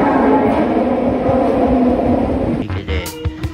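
A train on the Kita-Osaka Kyuko line rumbles steadily, then slows with clanks and squeals as it draws into a station and comes to a stop.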